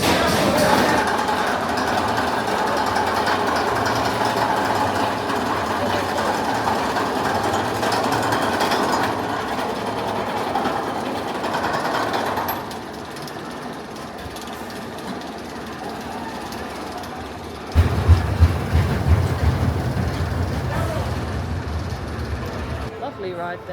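El Diablo roller coaster ride at PortAventura at night, a sustained loud rattling clatter of the train on its track that drops lower partway through, then a heavier rumbling surge near the end.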